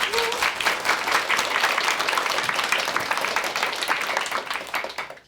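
A studio audience at a Korean TV lecture show claps in a dense, steady burst of applause that holds for about five seconds, then fades quickly at the end; no one speaks over it.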